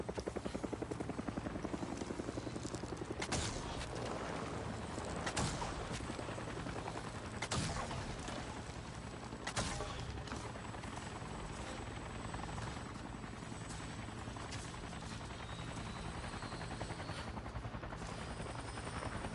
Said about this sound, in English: Oh, we got a helicopter coming in.